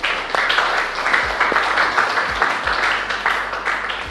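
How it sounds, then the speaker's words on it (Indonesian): An audience claps at a 2018 Ramadan children's event; loud, dense applause with rapid overlapping hand claps continuing throughout. "Kasih tepuk tangan dong."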